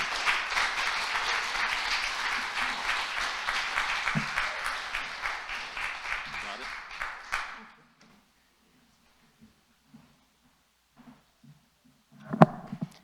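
An audience applauds steadily and warmly to welcome a speaker to a lecture hall, the clapping lasting about seven seconds before it dies into near silence, with a few faint bumps and a short knock at the end.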